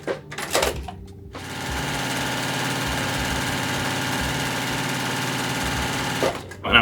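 A sewing machine runs steadily for several seconds, stitching a seam on fabric for half square triangle quilt pieces, with a fast even mechanical rhythm, close and fairly loud, starting and stopping with brief handling noise.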